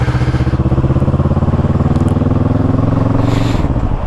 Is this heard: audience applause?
no